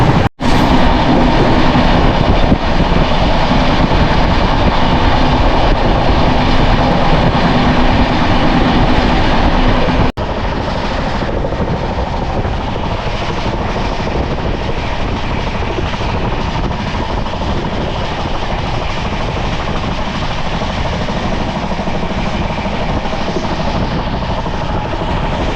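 Falaknuma Superfast Express train running at high speed, heard from inside as a loud, steady roar and rumble that continues throughout with no letup.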